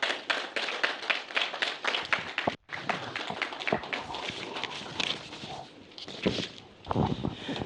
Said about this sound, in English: Another round of applause for Prince Harry Crystal.